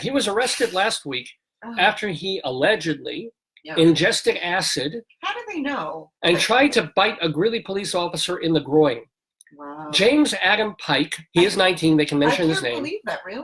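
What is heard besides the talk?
No everyday noises stand out.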